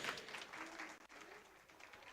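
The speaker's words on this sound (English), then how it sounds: "Please give a round of applause for all of the speakers." Scattered applause from a seminar audience on climate change and forest protection, thanking the speakers, faint and distant, a soft patter of many hands lasting a couple of seconds.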